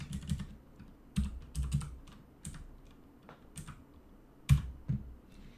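Keys clatter on a computer keyboard in short irregular bursts, close and fairly quiet, with small pauses between clusters of keystrokes and no speech.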